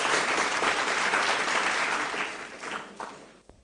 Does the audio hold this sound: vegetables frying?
no